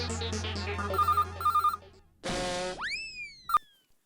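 A mobile phone ringtone plays a short electronic melody of repeated chiming notes, then breaks into loud cartoonish boing and swooping sound effects, clear and close with no talk.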